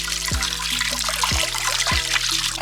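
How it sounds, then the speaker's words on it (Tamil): Water runs steadily from a tap while food is rinsed and washed repeatedly during home cooking of Korean gochujang noodles in Sri Lanka, a continuous close trickle with a few low thumps as items are handled, no talking. "திருப்பி கழுவி கொண்டே இருக்கிறேன்"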